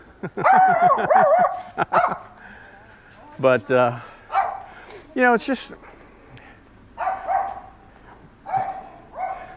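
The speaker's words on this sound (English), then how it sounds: "Oh, you're a sweet dog." A little dog barks and yips in a few short bursts, close by, while someone talks to it affectionately between the barks.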